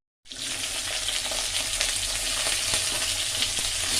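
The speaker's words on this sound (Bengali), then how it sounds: "শিম আর ফুলকপিটা ভেজে নেব হালকা করে।" Flat beans and cauliflower fry lightly in oil in a wok: after a brief silence, a steady, close sizzle begins and carries on evenly, with faint stirring clicks.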